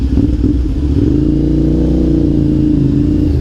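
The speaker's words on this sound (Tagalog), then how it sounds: "Kagandahan na yan sa big bike, malakas yung tunog." A CFMOTO 450 SR motorcycle engine revs loudly and steadily at close range during a night city ride, a continuous mid-pitched drone that rises slightly as the throttle opens.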